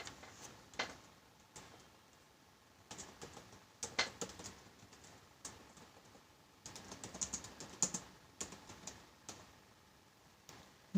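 Faint keystrokes on a computer keyboard while a title is typed, coming in irregular quiet bursts of clicks separated by short pauses.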